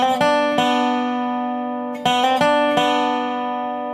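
A dobro plays an opening lick, with a sequence of bright, ringing plucked notes and a hammer-on, each attack sharp and followed by long sustain; a quick cluster of notes arrives midway, close and alone.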